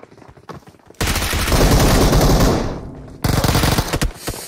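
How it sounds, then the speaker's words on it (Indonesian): Rapid gunfire in a mobile battle-royale shooter, aimed at a loot box: two sustained bursts of loud automatic fire, the first long and rolling, the second sharper after a brief gap, following quieter shots at the start. "Kau tembak kotak aku."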